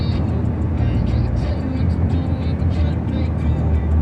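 Three semi trucks roaring past on a highway, heard from a moving vehicle as a loud, steady rumble of engine and road noise filling the whole clip.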